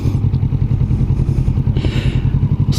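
Close, loud Kawasaki Vulcan S 2021 motorcycle engine with a lumpy, pulsing low-pitched thump and clatter, steady throughout with a brief scraping hiss near the end.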